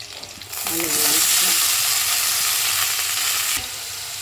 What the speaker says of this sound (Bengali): দেখো আমি এটা ছোট্ট পেঁয়াজ দিয়ে দিচ্ছি, কাঁচা লঙ্কা দিয়ে দিচ্ছি